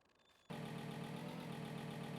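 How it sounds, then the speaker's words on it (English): Wheel loader engine in a farming video game kicks in after a brief quiet lead-in, then runs as a steady, loud, even drone with no one speaking. "get the wheel loader going"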